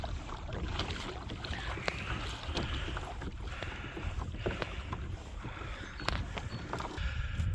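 Water sloshes and splashes with occasional sharp knocks, like a kayak paddle dipping and striking the hull in shallow lake water, under a rush of wind across the microphone.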